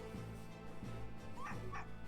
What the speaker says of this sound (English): That aggressive bark